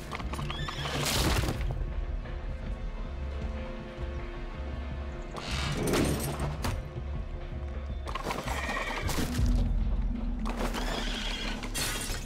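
In a Sherlock Holmes video game, a horse neighs in several loud bursts mixed with shattering, breaking sounds and clopping hooves, spread across the stretch over a constant low background.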